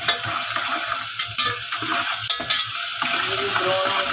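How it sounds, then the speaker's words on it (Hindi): Garlic paste stirred into browned onions frying in a pan, a loud continuous sizzle with repeated scraping stirs in an uneven rhythm, close up with no talking. "ये देखें प्याज ब्राउन हो गए, तो इसमें मैं लहसुन का पेस्ट ऐड कर दूँगी।"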